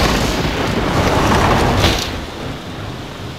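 Thunder following a lightning flash in a horror video game, a loud, broad rumbling boom that swells and then slowly tapers off, heard alone.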